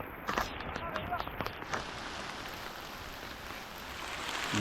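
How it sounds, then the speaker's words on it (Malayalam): Heavy rain pours steadily outdoors during cast-net fishing, a dense, even hiss with a few sharper spatters early on that builds slightly toward the end. "മഴ പെയ്യുന്നുണ്ട്. നല്ല മുട്ട മഴ."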